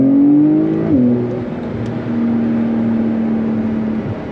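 Porsche 911 Carrera S (992 generation, 450 hp) with its flat-six engine, heard through an opened grille. The engine revs up sharply near the start, then drops back and settles into a steady, loud drone. It runs alone, with no talk.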